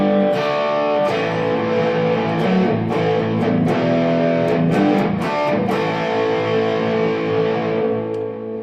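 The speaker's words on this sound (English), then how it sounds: "So the two of those notes together is what is called a power chord." Distorted electric guitar power chords, root and fifth together, are strummed in a steady rock rhythm, a thick, sustained, overdriven wall of sound that rings throughout and fades slightly at the end.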